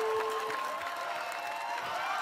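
Crowd cheering on a barefoot ninja warrior contestant at an Australian Ninja Warrior semi-final course, a steady wash of distant voices and applause with a whistle-like tone, no talk on top.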